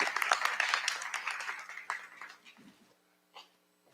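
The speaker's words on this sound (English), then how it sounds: "So if you give them a round of applause." A meeting audience gives a brief round of applause for school safety officers with law-enforcement backgrounds, dense at first and tapering into scattered claps and near silence within three seconds, with one late clap.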